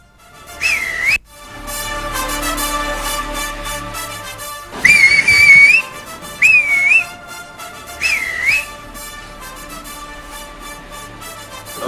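Several sharp, high whistles from a person celebrating a Tamil Nadu election win, loud short bursts in a rising-falling pattern repeated four times over a bright musical background.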